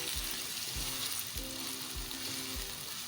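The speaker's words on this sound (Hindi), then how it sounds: "कुछ सेकंड के लिए हम इसको फ्राई करेंगे।" Grated onions frying in hot oil, a continuous soft sizzle with a few regular low scrapes or stirs at even intervals, fairly quiet and close.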